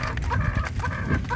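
Butcher gray, cobra and lemon gamefowl chickens eating at feeding time, with close clucking and low pecking and scratching over steady ambient farm noise.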